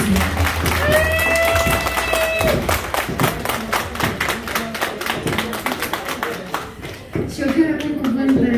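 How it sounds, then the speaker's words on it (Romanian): Wedding guests clap at a reception in Rezina, with dense, steady applause and scattered cheers running throughout, while a voice briefly sings or calls out over it. "Aplauze, vă rog frumos, aplauze!"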